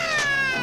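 Cartoon cat in a Smurfs episode giving one short, loud, drawn-out meow.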